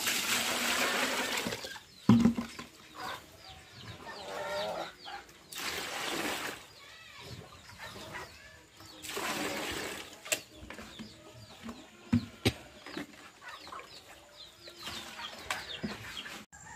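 Chickens cluck and chicks peep around a rural yard while being fed, with scattered calls, a few sharp peaks and some faint voices in the background.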